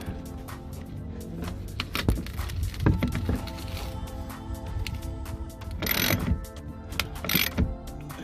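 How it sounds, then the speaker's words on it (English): Ratchet tightening a plastic underguard cover fastener beneath a BMW F10 528i during an oil change: steady ratcheting clicks and mechanical rattles close up, with a few louder knocks. "And here we have a ratchet that we're gonna use to tighten."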